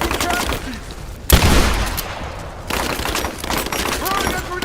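Gunfire in the video game Rise of the Tomb Raider, a dense burst of loud automatic shots amid continuous battle noise, with voices calling out during the firefight.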